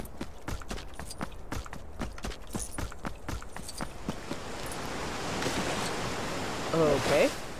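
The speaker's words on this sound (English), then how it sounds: "that's a waterfall" Rushing waterfall in the LEGO Jurassic Park video game, a broad steady wash of falling water that swells louder in the second half, following a run of sharp rhythmic clicks and taps at the start.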